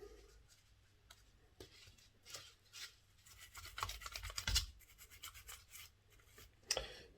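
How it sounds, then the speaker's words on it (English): An old Hornby R150 model locomotive being scrubbed with a pipe cleaner: faint, soft scratchy rubbing strokes in irregular bursts, close and quiet, with a couple of small sharper ticks. "we're going to do is just go at this with a pipe cleaner"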